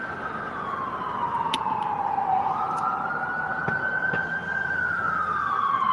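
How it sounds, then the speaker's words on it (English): Ambulance siren wailing steadily as the vehicle comes around a roundabout near the center of Buffalo, its pitch sliding down then rising again, loud and continuous over street traffic rumble. "That ambulance coming around the circle there"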